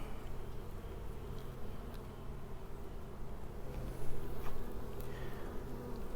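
Honeybees buzzing around an opened beehive during an inspection, a dense, continuous droning hum close by, with individual bees occasionally swelling louder as they pass near.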